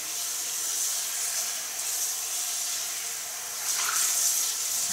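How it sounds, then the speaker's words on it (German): Tap water runs steadily to rinse the drip tray of a Bosch Vero Cup 100 coffee machine, a continuous close hissing splash that swells slightly near the end, with no voices. "Die Tropfschale hier ordentlich ausspülen."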